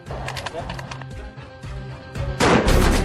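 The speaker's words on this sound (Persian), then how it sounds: "شلیک از خندق جلویی صورت گرفت که نشان می‌دهد تفنگ‌ها چگونه پیشرفته شدند" A sniper rifle fired from a front-line trench, with sharp reports and clattering bursts amid a busy mix of other battle noise, loud and close.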